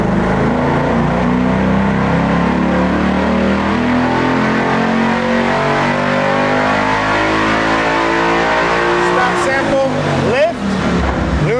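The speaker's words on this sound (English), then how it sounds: "That's an initial dyno run for the Vector X 4000 hub dyno." A car strapped to a Vector-X 4000 hub dyno runs a full pull, its engine droning loud and steady as it climbs through the revs, then dropping off sharply near the end as it is let back down.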